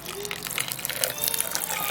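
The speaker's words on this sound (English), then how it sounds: "now you're gonna add a little bit of water" Water pours steadily into a blender with a splashing, gurgling rush up close, continuing throughout.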